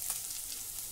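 Ground green chili paste frying in hot oil in a pan, giving a steady, even sizzle close by with no voices.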